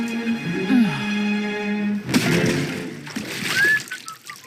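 Bender jumping into a vat of slurm in the animated series Futurama: a single sudden splash with sloshing water midway, set amid cartoon voices and music.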